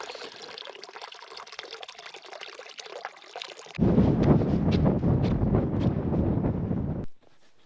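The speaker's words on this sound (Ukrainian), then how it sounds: "Перед підйомом на хребет явно посилився вітер." Wind gusts buffet the microphone before a ridge climb in the Ukrainian Carpathians, starting as a thinner rush and then turning into a loud, low roar that holds for several seconds before cutting off.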